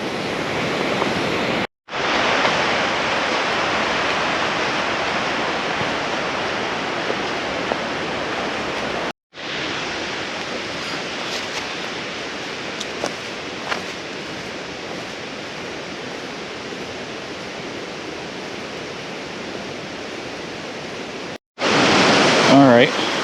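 Forney Creek in the Great Smoky Mountains rushes steadily along a hiking trail, a dense, continuous hiss of flowing water heard up close, broken by a couple of brief cuts.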